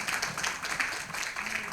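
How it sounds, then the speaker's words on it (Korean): Audience applause fills a church hall during a 50th anniversary worship service, a steady wash of clapping from many hands that holds evenly for the whole short stretch. "우리 박승열 목사님 박수 다시 한번 주세요"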